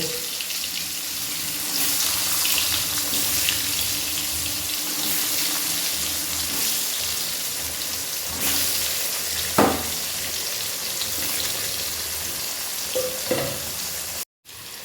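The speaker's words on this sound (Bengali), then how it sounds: "আমি এবার নুন হলুদ মাখানো আলুগুলোকে তেলের মধ্যে দিয়ে দেবো এক এক করে লাল করে ভেজে তুলে নেব" Salted, turmeric-coated potato pieces fry in hot oil with a steady, close sizzle, broken by a couple of sharp clicks and a short knock near the end.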